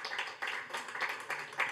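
Audience applause welcoming a panelist at a conference on sober water use, light scattered clapping in quiet bursts from a modest crowd, fairly soft and distant.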